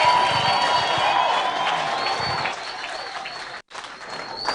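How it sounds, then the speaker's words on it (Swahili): Large congregation at a PEFA church gathering in Kirinyaga, Kenya, standing to cheer and applaud the arrival of the Deputy President, a sustained crowd of clapping and cheering that fades toward the end. "tusimame kwa shangwe na nderemo"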